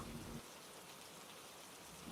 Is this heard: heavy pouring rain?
yes